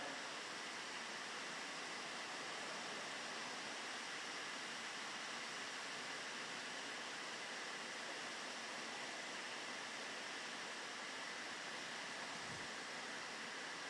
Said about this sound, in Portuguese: A concorrência é grande com a água, né, irmãos? Por causa da sonoridade.